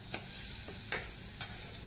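Kadhi tempering (phodni) sizzling softly in a pan, a faint continuous fry hiss with a few light stirring clicks, no voices.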